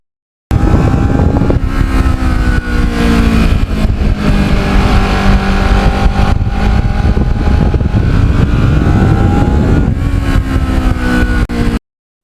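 A Kawasaki Ninja motorcycle engine drones continuously while riding, with wind rush and occasional shifts in engine pitch, loud and close throughout.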